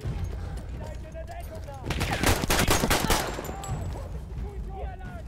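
Turret machine gun fire in Battlefield 1 erupts in a dense rapid burst of shots about two seconds long, loud amid ongoing battle noise with voices talking.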